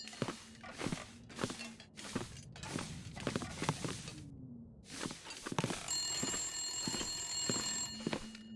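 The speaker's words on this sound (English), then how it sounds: "Where's that phone noise coming from? Is it downstairs?" An old-fashioned telephone bell rings in The Long Dark, repeated trilling bursts separated by short pauses, fairly loud, with footsteps and a low hum between rings and a high electronic tone joining later.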